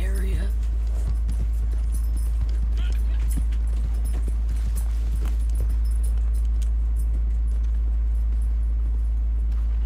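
Steady hoofbeats of a horse in a video game clip-clop along at a walking pace over a constant low hum, with occasional faint clinks and rustles.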